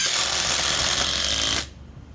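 A Flex compact impact driver or a DeWalt DCF845 impact driver hammers continuously and loudly at close range for about a second and a half, then stops abruptly, leaving a quiet room.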